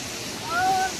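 Steady, close rush of flowing water at Panaskondi, a monsoon-season swimming spot, filling the whole second as an even broadband hiss that swells slightly midway, with a faint tonal voice-like trace riding over it.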